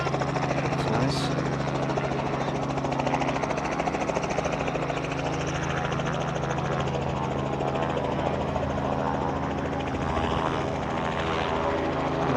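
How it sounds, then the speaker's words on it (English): Helicopter flying over a VW van meet at Chocks Away Diner, a steady droning rotor and engine hum that stays constant throughout at moderate distance. "The helicopter."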